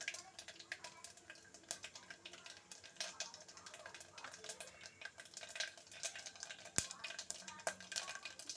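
Cumin, mustard seeds, chana dal and urad dal fry in hot oil for a rice rava upma tempering, a faint crackling sizzle with scattered pops and an occasional sharp tick, with some stirring.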